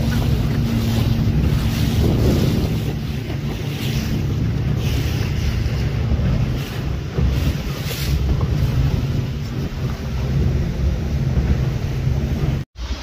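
A boat cruises across open water at Yas Bay in Abu Dhabi, a steady rushing wash of engine, water and wind buffeting the microphone, loud and continuous with no talking until a brief knock near the end.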